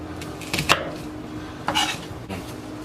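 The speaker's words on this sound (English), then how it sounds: "when I finish chopping my vegetables" A knife chops whole onions on a cutting board in a few distinct, close strokes with brief pauses between them.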